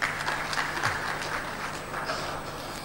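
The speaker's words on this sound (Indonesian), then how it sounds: "Tepuk tangan untuk Cimahi" Audience applause at a West Java government gathering, clapping for the city of Cimahi, a steady, dense wash of many hands that continues at an even level for about three seconds.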